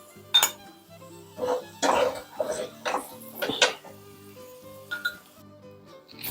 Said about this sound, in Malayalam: നമുക്കിത് കോരിയെടുക്കാം, അതല്ലെങ്കിൽ ചിലപ്പം കരിഞ്ഞു പോകും.